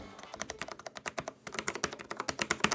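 Rapid, crisp clicking of keyboard keys, close up, in an uneven typing rhythm with a brief pause midway, no voices.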